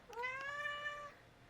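A single cat meows once, a clear drawn-out call of about a second heard close up in a quiet indoor room, with no one talking.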